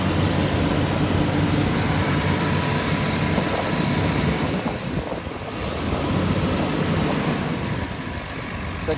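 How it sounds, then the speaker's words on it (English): A Komatsu PC360LC-10 excavator's diesel engine idles with a deep, steady rumble, close and loud, dipping briefly midway before settling back to an even drone. "It's a good running engine."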